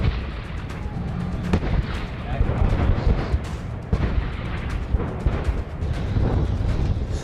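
Artillery and tank fire at a Pakistani army firepower demonstration near Bahawalpur: a loud, continuous barrage of overlapping booms and rumbling blasts, sustained and dense throughout with no pause.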